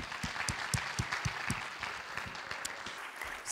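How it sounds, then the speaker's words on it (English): Audience applause fills a graduation ceremony hall, a steady wash of many hands clapping with a few sharper, louder claps standing out, continuing evenly for several seconds. "So a round of applause for this lab and her as well."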